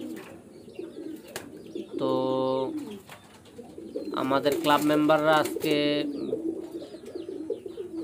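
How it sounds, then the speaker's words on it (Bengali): Pigeons coo in a village loft with a cage holding adults and grown young, producing soft rolling calls that swell into a louder burst of overlapping cooing midway, while someone talks over them. "এখানেও কবুতর থরে আছে এবং প্লাস বাচ্চা মাশাআল্লাহ বড় হয়ে গেছে"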